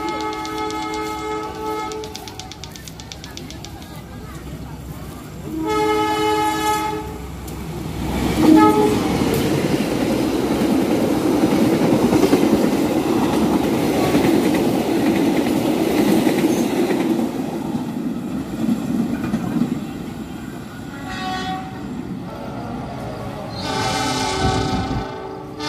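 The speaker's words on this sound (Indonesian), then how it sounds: "Setelah KA Pasundan melintas di stasiun Cimekar" The KA Pasundan passenger train runs through Cimekar station on track 2. Repeated loud horn blasts sound as it approaches, followed by a long, close rumble and clatter of wheels as it passes, with another horn blast near the end.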